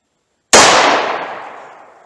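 A single sharp gunshot from a Taurus .357 Magnum revolver firing Buffalo Bore 158-grain .38 Special +P ammunition: one loud, close crack that starts abruptly and then decays slowly.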